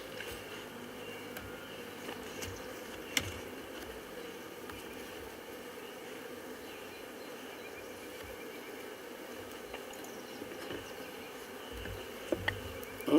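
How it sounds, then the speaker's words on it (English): Excited honey bees swarm around an open Flow Hive, their dense buzzing hum steady and close throughout, broken only by a few faint clicks. "We're getting some pretty excited bees here."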